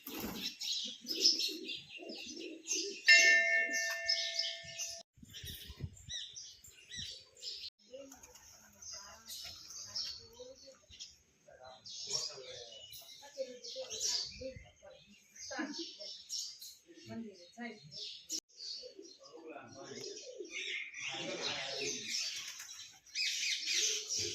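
Multicoloured pigeons coo and chirp repeatedly through the clip, close by in a garden, mixed with other bird calls and scattered people talking.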